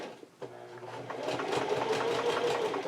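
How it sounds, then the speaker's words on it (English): A sewing machine runs at a slow, steady pace, stitching a straight seam through fabric. The motor hum and needle rhythm start after a brief pause, then continue evenly and fairly close. "we're just going to sew nice and slow, straight, keeping the fabric lined up with the edge of the presser foot"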